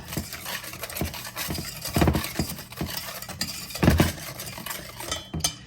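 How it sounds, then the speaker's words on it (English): A whisk scrapes and clinks steadily around a bowl, mixing a cornstarch pie filling to break up lumps. The close, rhythmic strokes have a few louder clanks against the bowl, with no talking. "whisk that all together, get rid of those cornstarch lumps"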